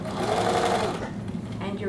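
A sewing machine stitches bias tape trim onto the hood of an atikłuq, a steady close whirring run that eases off partway, with a voice speaking over it.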